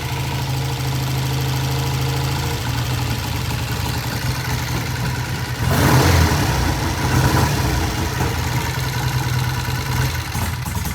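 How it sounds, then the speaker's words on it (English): A vintage British motorcycle engine idles with a steady, throbbing mechanical beat, then its sound shifts and roughens midway as the lights are switched on, heard close with no talking. "Turn the lights on and it kills the engine"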